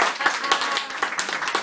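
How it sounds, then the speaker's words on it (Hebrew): Studio audience clapping at a televised Hebrew event with a guest from Brazil, a busy patter of hand claps with a few sharper peaks across the short stretch, fairly close and steady throughout. "קבלו אותה במחיאות כפיים."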